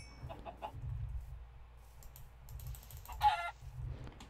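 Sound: chicken clucking in Minecraft video game

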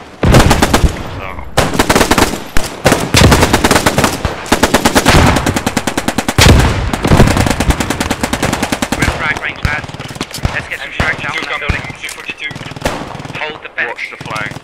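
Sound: machine gun fire in Post Scriptum video game

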